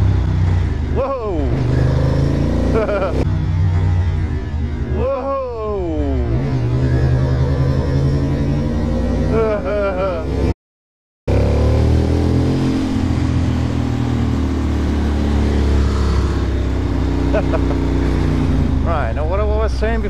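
A motorcycle ridden at speed, its engine rising and falling through revs in repeated sweeps, loud and close amid wind roar, with a short dropout partway.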